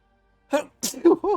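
A single short sneeze during a tabletop role-playing session bursts out near the microphone, with speech close around it.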